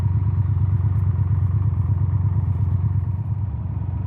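Steady drone of a Honda Transalp engine on the move, a loud, even low rumble with road and wind noise sustained throughout and no speech.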